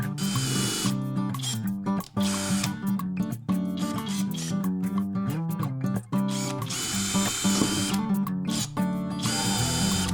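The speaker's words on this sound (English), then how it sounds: "This is technically a masonry bit, but hey, let's see if the sharpener can do something it's not supposed to." A Parkside PBSG 95 drill bit sharpener grinds a masonry bit, a loud close motor whine with rattling grinding that rises and dips over several passes, with no voices.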